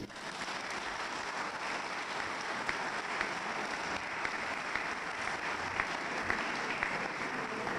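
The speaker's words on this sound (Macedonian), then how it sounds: "Аплауз." Sustained applause from a crowd at a political party rally speech in Kavadarci, a dense, even patter of many hands continuing throughout.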